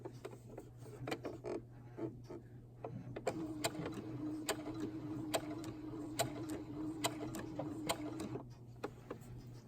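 A sewing machine stitches stretchy hoodie fabric in short runs, a soft mechanical whir with steady needle ticks that grows more continuous toward the end, fairly quiet and with no talk.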